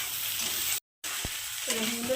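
Semolina balls fry in oil, a soft continuous sizzle close by, cut by a brief dropout, then a single tap and a metallic ringing scrape of a utensil against the pan.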